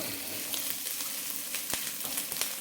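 Fennel seeds frying in a pan for a curry, a close steady sizzle with sharp crackles and a few scraping knocks as they are stirred, no voices.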